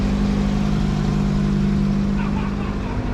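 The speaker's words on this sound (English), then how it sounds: "These guys are all taking off right here, so show you guys some of that." Cars revving and taking off at an EF versus DA Honda drag race meet in NorCal, a loud, continuous engine drone with a strong low hum throughout and faint talk underneath.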